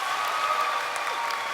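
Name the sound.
audience clapping once in unison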